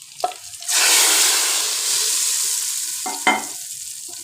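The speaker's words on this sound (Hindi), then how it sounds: "ये अब बघार मैं लगाने लगी हूँ इसमें।" Red chillies cut into pieces hit hot oil as a tempering for daal, giving a sudden loud sizzle that hisses steadily and slowly fades, with a few clinks of a spoon at the start and end.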